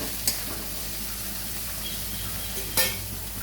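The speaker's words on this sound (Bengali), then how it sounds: "আদা বাটা দিয়ে দিলাম, এটা আর একটু ভেজে নেবো।" A steady sizzle of ginger paste frying in a pan, with two brief scraping clicks from a utensil.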